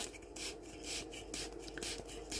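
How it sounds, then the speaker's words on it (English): A bamboo skewer is twisted and pushed up into a fake bake Christmas tree, giving a close, steady rasping scrape in repeated strokes with a gritty, rubbing texture and no voices. "So just keep twisting and pushing just until that bamboo skewer, you'll see how far it goes, has gone quite far up."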